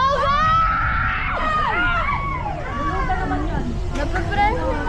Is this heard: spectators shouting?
yes